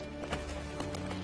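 A spooked horse's hooves clip-clop in a few quiet, irregular beats over a low background hum.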